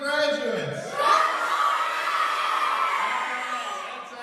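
Rowdy, enthusiastic crowd of DARE graduates cheering and whooping at a graduation ceremony, a loud sustained roar with shouts rising near the start and holding steady throughout.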